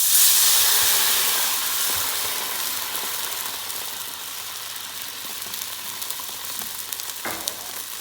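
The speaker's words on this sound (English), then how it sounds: "Deglaze with red wine." Red wine poured into a hot pan of cooking goat meat bursts into a loud, hissing sizzle of steam that peaks at first and then settles into a steadier crackle, close and with no voices.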